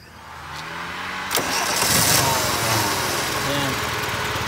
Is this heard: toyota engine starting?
yes